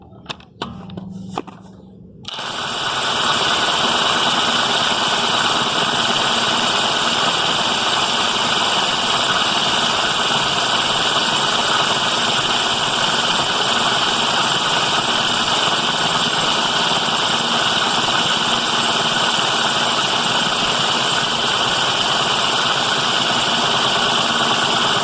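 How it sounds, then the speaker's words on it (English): A Parkside PASSK 20-Li A1 cordless impact wrench set to 150 Newton meters works at a vehicle bolt, a loud, steady high-pitched mechanical whir that starts after a couple of brief clicks and runs unbroken for over twenty seconds, close to the listener. "we're going to be using the 150 Newton meters settings on the impact wrench gun and see how long would it take to unscrew the bolt"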